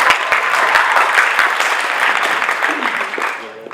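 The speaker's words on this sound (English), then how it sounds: "let's give Will a round of applause." An audience at a comedy night claps for a volunteer named Will, a dense burst of applause with a few sharp claps that tapers off near the end, with voices faintly underneath.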